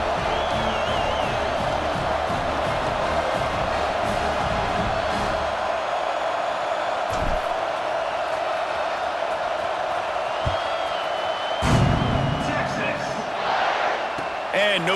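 A stadium crowd from the EA Sports College Football 26 video game keeps up a steady roar and murmur beneath a commentator's speech, with a brief surge of cheering near the end.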